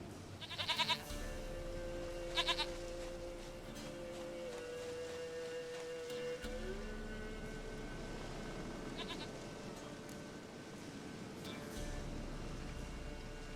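A goat in the video game The Witcher 3 bleats in short bursts, two early and two more later, over a steady low ambient drone with a faint tonal hum.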